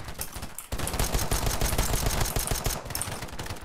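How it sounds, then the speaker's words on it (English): Rapid automatic gunfire in the shooter game Polygon, with a Glock pistol in play, crackling in dense sustained bursts close up after a brief lull near the start. "Why is he shooting after me over there?"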